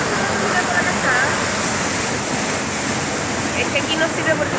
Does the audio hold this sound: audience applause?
no